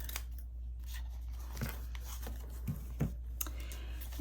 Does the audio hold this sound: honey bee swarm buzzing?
no